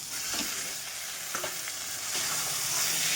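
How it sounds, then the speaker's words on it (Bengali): Drained taro leaves added to hot spiced oil in a pan, giving a loud continuous sizzle with a few stirring scrapes, close by and without talk. "এখন এই যে জল ঝরিয়ে নেওয়া কচু শাকটা দিয়ে দিচ্ছি"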